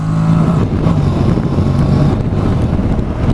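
A Honda NC750X motorcycle with a DCT gearbox accelerating hard, its engine roar loud and constant beneath heavy wind buffeting on the microphone, with no talk.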